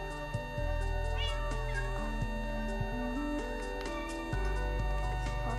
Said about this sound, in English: Jeremy, I can't find my cats.